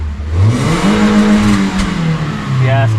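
In sport mode, a Daihatsu Terios engine revs toward 6000–7000 RPM at quarter throttle, a loud close rising and falling roar lasting about three seconds, with a brief voice near the end.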